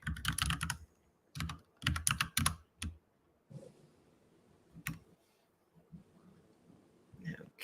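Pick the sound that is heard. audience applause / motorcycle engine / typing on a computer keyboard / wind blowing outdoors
typing on a computer keyboard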